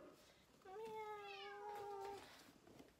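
A single drawn-out meow from a farm cat sounds close and clear in a quiet room as it is about to be fed, rising and then falling in pitch.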